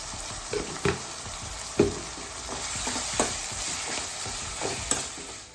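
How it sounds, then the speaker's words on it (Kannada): Dal with salt and turmeric frying in a pan, a steady soft sizzle broken by several distinct scraping stirs of a spoon at irregular intervals, close and moderately loud. "2 ನಿಮಿಷ ಫ್ರೈ ಆದಮೇಲೆ ಈ ಥರ ಫ್ರೈ ಆಗಬೇಕು"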